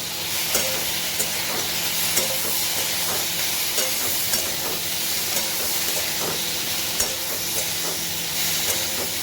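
Two eggs fry together in a pan with potatoes, giving a steady close sizzle and hiss with faint stirring clicks throughout, no voices.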